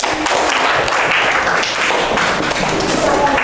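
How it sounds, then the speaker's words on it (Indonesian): Classroom audience applauding after a group presentation, a dense burst of hand clapping that holds steady and loud throughout, with some voices mixed in. "Tepuk tangan."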